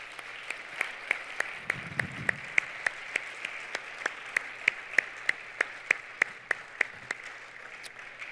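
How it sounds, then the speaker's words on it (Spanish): Rhythmic clapping at a Spanish-language church conference: sharp, evenly spaced claps at a steady beat, faint and somewhat distant, with a brief low murmur early on. "Denle un aplauso al Señor."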